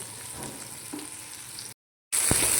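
Vegetables lightly frying in oil give a soft, steady sizzle in a kadai, broken by a brief silent cut before a louder hiss and a sharp stir resumes.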